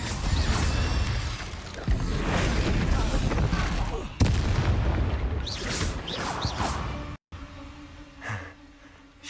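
Fiery Incendio spell blasts in the wizarding game Hogwarts Legacy, several loud bursting booms and whooshes amid combat clatter, with someone shouting spell names over the fight before things quiet down.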